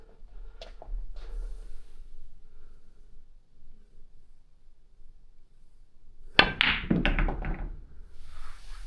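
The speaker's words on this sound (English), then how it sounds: "So this is how he would have played that shot." On a billiards table, a pool cue strikes the ball with a light tap, followed by a cluster of sharp clicks and knocks as balls collide and roll, fairly close in a quiet room.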